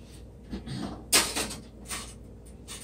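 A garlic pan slid into a toaster oven followed by the small door swinging shut, a few light metallic clatters and one sharper clack at close range, no talking.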